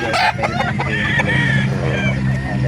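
Roosters crowing and clucking at a gamefowl market in Calauan, several birds close by in a busy, crowded setting with a steady wash of background noise.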